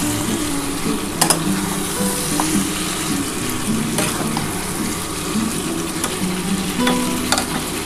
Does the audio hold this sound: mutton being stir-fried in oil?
yes